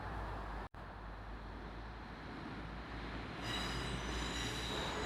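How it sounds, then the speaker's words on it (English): Local commuter train pulling out of Belfast Grand Central station, a steady rumbling roll of wheels on track with rising high-pitched wheel squeal toward the end, heard from the platform at moderate distance. "the train pulling out of now"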